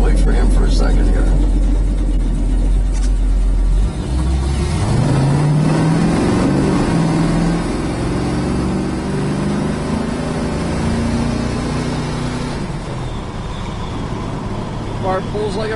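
A 1968 Dodge Dart's engine revs up on a road in a 35 mph zone, a steady low rumble rising through climbing harmonic tones before settling into a loud, even drone.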